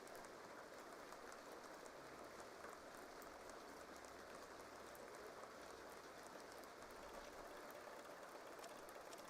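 A rainstorm in The Sims 2 gives a steady, faint hiss of rain drumming on surfaces throughout, with no voices over it.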